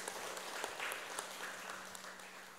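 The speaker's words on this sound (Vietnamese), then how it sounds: "Hãy dâng cao tràng vỗ tay để tán dương chung" An audience at a Buddhist ceremony applauds together, a steady wash of many hands clapping at a moderate distance, faint and even throughout with a low hum beneath.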